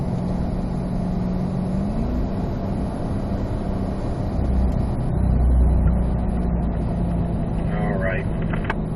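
Several C8 Corvette sports cars roll around a race track in fourth gear, giving a steady engine rumble and tyre noise that swells briefly midway. Faint voices can be heard under the engines.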